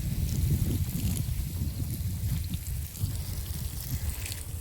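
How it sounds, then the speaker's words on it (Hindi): Strong wind blows outdoors in a rural spot with straw and dung, buffeting the microphone in loud, low gusts for a few seconds, with no voices. "और इतनी तेज़ हवा चल रही है।"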